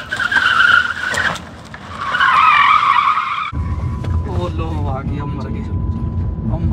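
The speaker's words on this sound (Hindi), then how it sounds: "तगड़ा ड्रिफ्ट मारती है भाई" Tires skid and squeal loudly as an electric car drifts on a road, a long screech followed by another sustained squeal, then traffic noise with a horn-like tone while people talk.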